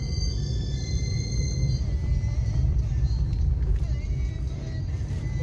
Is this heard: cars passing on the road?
yes